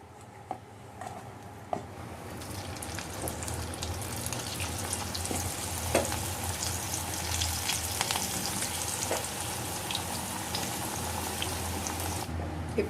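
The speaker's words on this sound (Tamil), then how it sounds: "இப்போ நம்ம ஃப்ரை பண்ணி எடுத்துடலாம்." Cabbage 65 pieces deep-frying in hot oil give a steady, dense sizzle that runs the whole time, with a few faint clicks and no voices.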